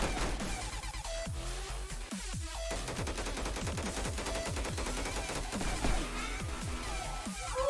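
Rapid gunfire rattles throughout a Roblox match, with repeated sharp shots and descending sweep effects running in quick succession. It is fairly faint overall, with no voices.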